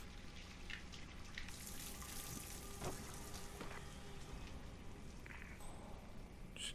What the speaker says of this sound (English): Someone should really turn that water off.